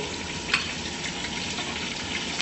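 Bresse chicken pieces and a large chopped onion brown in a pan with a dense, even sizzle that holds steady throughout, plus a single brief clink from a utensil early on and another near the end; no voices.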